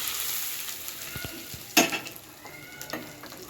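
Cumin, asafoetida and turmeric sizzling in hot oil as a tempering in a pan, a steady close hiss with a sharp clink near the middle, no voices.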